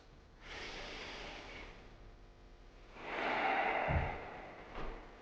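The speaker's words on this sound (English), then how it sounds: "I want you to breathe just through your nose" Slow breathing through the nose, a long inhale then a louder exhale, close and airy with no talking.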